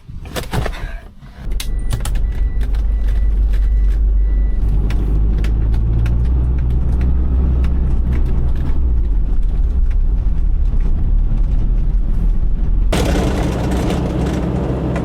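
Toyota Land Cruiser on the road on a solo trip, a steady low engine and road rumble filling the clip after a brief quieter start, with a change in tone near the end.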